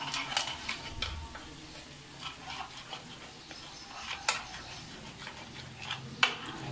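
Spoon scrapes and clinks against a pot in irregular strokes, mixing biryani masala into chicken biryani, while something sizzles quietly underneath, close and fairly soft.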